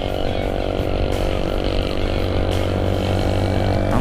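Several big motorbikes pass close by on a road, a steady loud engine roar with layered exhaust drone running through the whole moment and no clear gaps between machines.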